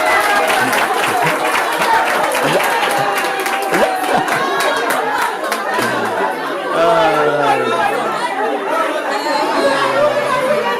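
An audience at a family birthday celebration claps for a schoolgirl's friend, a continuous patter of hands mixed with lively chatter and voices, fairly close and steady throughout.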